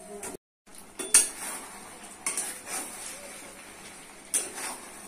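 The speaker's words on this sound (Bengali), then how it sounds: "ছেড়ে দিচ্ছি কলা আর আলু, ভালো করে কষে" Green banana and potato pieces dropped into a pan and stirred, giving clattering knocks and scraping of utensil on metal with a light sizzle underneath, a few louder clanks standing out.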